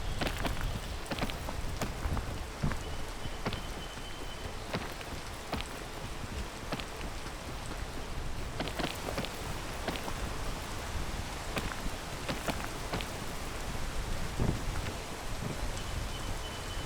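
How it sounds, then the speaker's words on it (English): Steady rain falls in the climbing video game Peak, a dense continuous patter with sharp scattered drop hits throughout, fairly loud and with no talk. "Started raining right in the middle of that."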